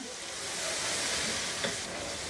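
Turmeric, chili and garam masala powders are stirred and fried in a pan for a lentil and bottle gourd dal, giving a continuous close hiss with a faint scrape of stirring.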